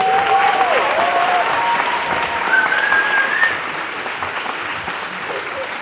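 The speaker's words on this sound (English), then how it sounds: "Can we give them another round of applause?" An audience claps for children who have just performed on stage, a full steady round of applause with a faint whistle-like tone drifting through it, easing slightly toward the end.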